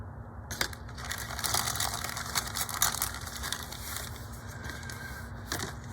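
Clear plastic glass parts from a 1962 Buick Convertible 1/25 scale AMT model kit rustle and crinkle as they are slipped into a plastic bag, a continuous nearby crackling with sharper clicks.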